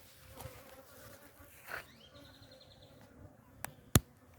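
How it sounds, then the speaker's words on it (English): A faint, low honeybee buzzing drifts around quietly at a crowded hive, with a couple of sharp clicks and a brief bird chirp in the background. "Never saw this hive with so many bees before."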